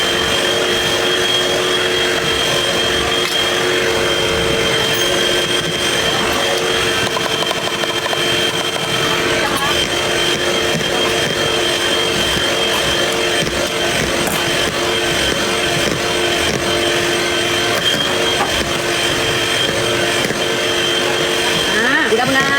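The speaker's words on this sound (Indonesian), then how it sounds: "kita saring sambil kita mixer" An electric mixer beating economical lapis legit cake batter runs with a loud, steady motor whine throughout, with a voice speaking over it.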